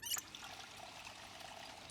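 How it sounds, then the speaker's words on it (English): Water trickles from a tap into a water bottle in the Project Zomboid survival game, a brief splash at the start followed by a steady, soft pouring stream with no talking. "And let's go and fill up our water bottle."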